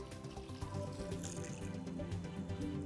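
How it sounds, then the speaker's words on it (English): Water pours steadily from a whole house filter system during its backwash cycle, a continuous rushing flow with a dense wash of tone and no voices, running evenly throughout. "now that the water is coming out clear"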